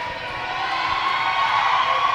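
At an independent wrestling event, a crowd cheers and shouts in a sustained, rising roar that grows a little louder toward the end, with scattered whoops.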